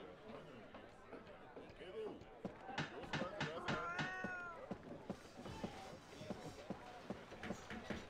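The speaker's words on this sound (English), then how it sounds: "I like how the cat's supervising this one." A cat in a video game lets out several short meows in a row amid game sounds and background noise, fairly faint, with a voice speaking nearby.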